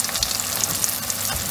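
Carp fish eggs deep frying in hot oil, a dense steady sizzle and crackle close up with no talking.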